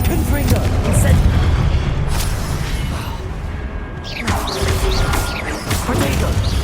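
Spell explosions and crashes in the Hogwarts Legacy video game form a dense, loud roar of booms and impacts, with a brief dip before the blasts resume, while in-game voices shout incantations over the chaos.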